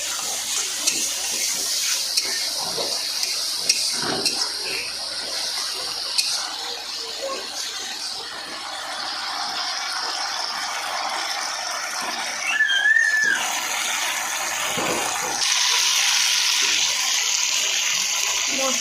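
Water poured steadily into a pan of cooking spiced curry, a continuous close rushing stream with a short squeal and bubbling shifts over nearly twenty seconds, no talk.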